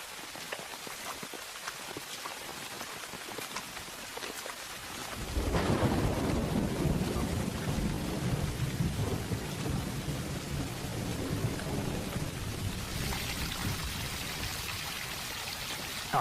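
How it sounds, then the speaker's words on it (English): Torrential downpour in the Amazon rainforest with rolling thunder: a steady roar of heavy rain that swells abruptly and stays dense, continuous and loud, with no voices. "The downpours are torrential and they're not stopping."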